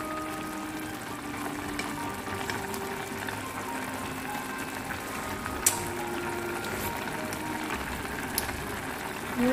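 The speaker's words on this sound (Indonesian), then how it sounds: "Nah, sudah mendidih seperti ini." A pot of lodeh with cassava leaves boils on the stove, giving a continuous bubbling, simmering hiss with occasional small pops and clinks, close by and without talk.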